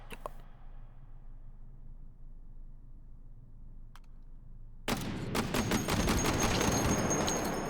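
Mk19 automatic grenade launcher firing in the VR game Hot Dogs, Horseshoes and Hand Grenades: after a quiet stretch with a single faint tick, a dense, sustained burst of rapid launches and blasts starts suddenly and keeps going loudly to the end.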